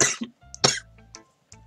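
A person gives a few short, close coughs and throat-clears in separate bursts over a quiet, low background tone.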